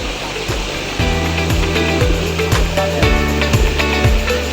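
Clear water pours at Pinamun-an Spring falls in Barangay Malinaw, Nagcarlan, Laguna, Philippines, a steady loud rushing wash with a rhythmic musical beat layered underneath.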